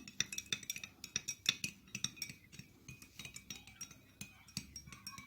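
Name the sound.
spoon stirring spiced tea in a glass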